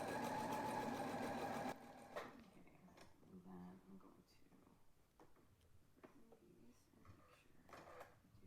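A sewing machine stitches a pocket onto a dress in a loud, rapid whirring burst lasting under two seconds, followed by quieter handling sounds and soft voices.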